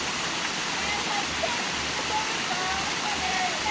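A small waterfall on a wooded village hill pours steadily, a broad, loud rushing hiss filling the whole clip, with faint voices underneath.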